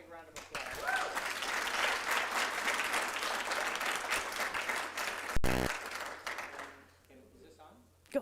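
Audience applause at a town hall on youth mental health, a dense sustained round of clapping from a crowd that tapers off near the end, with a brief burst of noise partway through and talking under it.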